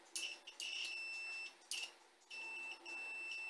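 A multimeter on continuity test gives a steady high-pitched beep, sounding in several separate bursts with brief clicks and short gaps between them, clear against a quiet background.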